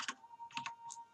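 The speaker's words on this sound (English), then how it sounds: "I don't think this is the right Ditto now that I'm typing these stats in." Keys clatter on a computer keyboard in three short bursts of close, light clicks with a steady faint tone beneath, as stats are entered for a Pokémon Ruby/Sapphire/Emerald game.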